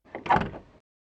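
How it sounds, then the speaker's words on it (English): A short video game door-opening effect, a single brief sliding swoosh with a soft mechanical rasp that fades out in under a second, heard alone. "Oh, that's a good"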